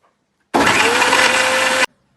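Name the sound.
mixer grinder blending soaked dates and milk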